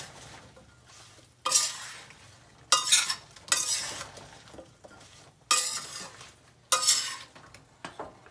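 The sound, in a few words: stirring gunda vegetable in oil in an iron pan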